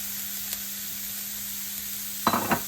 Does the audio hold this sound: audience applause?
no